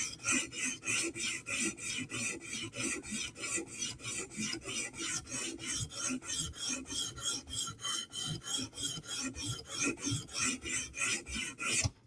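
A Chris Reeve Umnumzaan knife blade is drawn across a whetstone in steady, rapid back-and-forth rasping strokes, close and rhythmic, with no talking.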